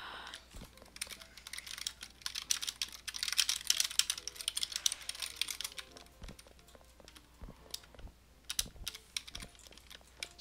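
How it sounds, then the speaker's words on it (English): Rapid typing on a computer keyboard, with dense clattering keystrokes that come in uneven bursts and short pauses, close and clear, with no talking. "So now, while he's typing,"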